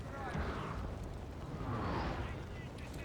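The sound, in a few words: cannon fire in a video game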